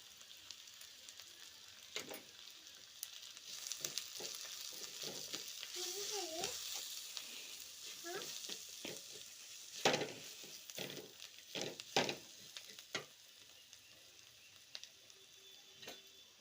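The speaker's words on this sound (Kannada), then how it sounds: "ಇದನ್ನು ಚೆನ್ನಾಗಿ ಮಿಕ್ಸ್ ಮಾಡ್ಕೋಬೇಕು. ಕಮ್ಮಿ ಉರಿ ಮಾಡಿಕೊಂಡು ಚೆನ್ನಾಗಿ ಮಿಕ್ಸ್ ಮಾಡ್ಕೊಳ್ಳಿ" A spoon scrapes and stirs chili powder through chicken curry masala in a hot pan over low heat, with a soft continuous sizzle broken by sharp clinks and taps against the pan.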